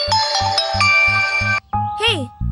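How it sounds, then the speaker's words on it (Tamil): A mobile phone in a Tamil TV serial rings for an incoming call with a bright electronic melody over a steady thumping bass beat, loud and close, ending in a short sliding tone. "ஹே, பிரசாந்த் கால்டி அத போய் நீ கட் பண்ற?"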